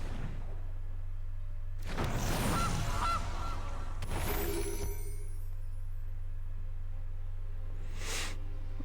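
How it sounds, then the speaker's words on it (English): A goose honks in the Magic: The Gathering card game, two loud nasal honking bursts close together followed by a shorter, fainter honk a few seconds later, over a low steady hum. "And there's a good old goose."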